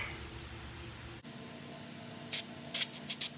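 Several short hissing bursts of cleaner sprayed through a carburetor jet of a 1995/1996 Toro Super Recycler lawn mower, close and fairly loud, following a quiet stretch of faint handling noise.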